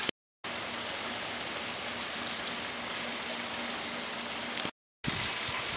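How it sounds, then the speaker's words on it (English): Steady hiss of rain falling, continuous and even, with two brief dropouts into silence. "Wow, what a wonderful, beautiful, cloudy, rainy day this is."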